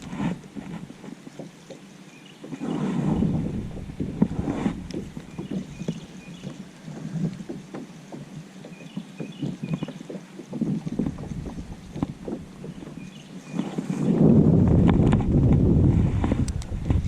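Strong wind buffets a fishing boat out on muddy water while bass fishing, a loud rumbling roar over the microphone that swells in gusts and grows heaviest near the end, with faint clatter aboard.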